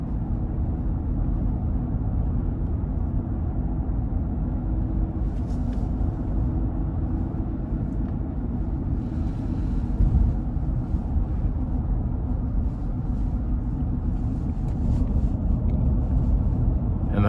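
A 2016 GMC Yukon with 122,000 miles cruises with its four-cylinder deactivation mode engaged, giving a steady, low cabin drone of engine and road noise throughout, with no talking.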